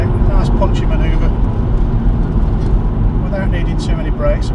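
A car accelerating hard in third gear through an overtake on a Scottish road, its engine note rising under steady road and wind roar that fills the whole stretch.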